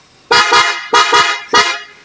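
A PIAA car horn set on a 2023 Nissan Patrol, sounding together with the stock horn, honks loudly in three quick pairs of blasts, close by and sharp.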